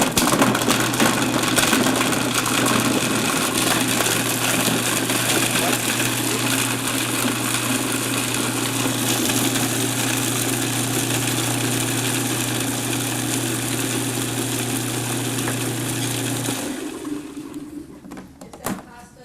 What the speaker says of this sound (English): I'm going to make some noise here grinding the cheese